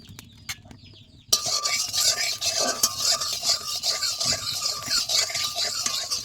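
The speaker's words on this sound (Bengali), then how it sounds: "কড়াই গরম হয়ে গেছে, দিয়ে দেবো তেল" Cooking oil goes into a hot wok on a stove for a taki fish and taro stolon dish: a near-silent start, then from about a second in, a sudden loud, steady crackling sizzle that continues to the end.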